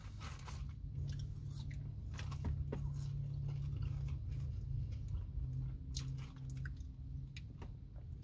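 Close crunchy chewing of fast-food french fries from Wendy's, soft repeated bites and mastication over a steady low background hum, no talking.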